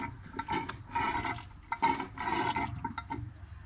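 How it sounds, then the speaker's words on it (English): Coolant gurgling and sloshing inside the cooling system of a 7.3 diesel engine at the thermostat neck, heard up close as irregular watery bursts and bubbling with no talk over it. "Now you can hear it's actually like gurgling a little bit"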